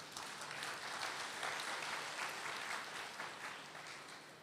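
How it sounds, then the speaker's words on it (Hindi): An audience claps during a spiritual discourse, a faint, steady wash of applause that holds evenly and then slowly tapers near the end. "तालियां बजाओ जरा"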